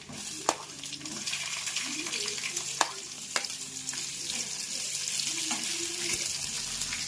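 Onions frying in a pan for an avarekalu (field bean) saaru, a steady crackling sizzle with a few sharp clinks of a spoon, mostly even in level throughout.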